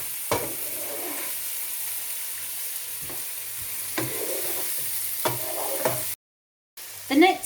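Mushrooms frying in a pan with tarragon, garlic and butter for a chicken dish, a steady close sizzle broken by periodic stirring scrapes, with a brief dropout near the end.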